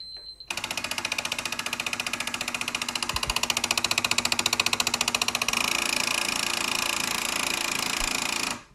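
A PS5 disc drive with a Nidec fan makes a loud, continuous mechanical rattling whir for several seconds, buzzing harshly and shifting slightly partway through before cutting off.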